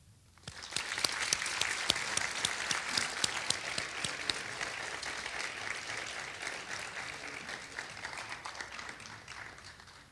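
An audience at a youth human rights awards ceremony breaks into applause, with dense, steady clapping that starts quickly and continues strongly throughout.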